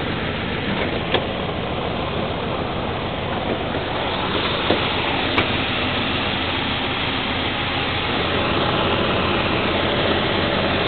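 A 5.9 liter V8 engine idling with a steady, loud, continuous rumble and a few small clicks on top, no voices.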